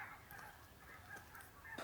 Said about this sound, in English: it sounds like geese